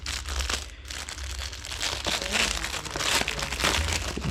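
A plastic bag around a boxed Corsair XTM50 computer part crinkles and rustles in close, irregular bursts, loud and near, with no speech over it.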